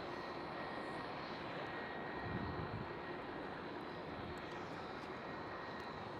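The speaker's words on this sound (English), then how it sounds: "this Iceland Air 757 that is starting up. And those engines do want some attention" Engines of an Icelandair Boeing 757 spool up at Amsterdam Schiphol, heard from some distance as a faint, steady roar with a low swell midway, alone without voices.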